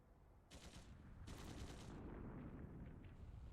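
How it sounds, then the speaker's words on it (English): Bursts of rapid gunfire in the video game The Legend of Heroes: Trails Through Daybreak II crackle in two volleys, followed by a sustained low rumble and heavy, continuous din of battle. "Gunshots from the next district!"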